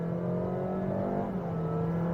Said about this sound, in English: So you can hear the engine running